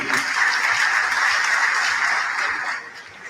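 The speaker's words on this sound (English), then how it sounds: "So please, another round of applause for him." Sustained applause from a conference audience at a pharmaceutical society gathering, a dense steady wash of clapping that holds loud and even before thinning slightly toward the end.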